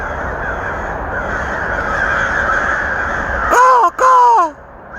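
A flock of startled crows caws loudly in the open, harsh repeated calls rising over a busy background of wingbeats and chatter, ending with two strong close caws.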